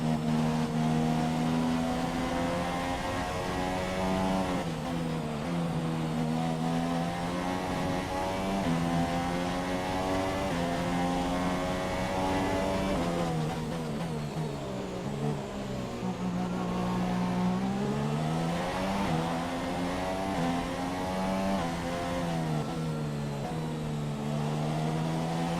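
Formula One car engines in the video game F1 2017, racing at the Malaysia circuit alongside McLaren Hondas, whine steadily and loudly through rising and falling gear shifts over about twenty-five seconds, with no speech.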